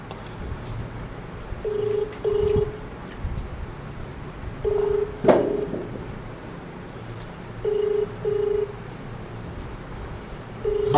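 A phone call placed during a live stream: steady dial tone hum with repeated paired ringback bursts at regular intervals, moderately loud, with faint background noise and no one answering.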